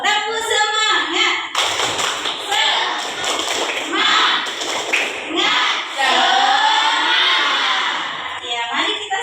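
Fifth-grade children in an Islamic primary school classroom perform a clapping chant, loud voices chanting together over rhythmic hand claps and thumps, with a short pause before the group bursts in.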